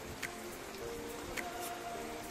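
Rain falling softly and steadily, a faint, even patter of drops on surfaces with a few slightly louder drips, quiet and continuous throughout.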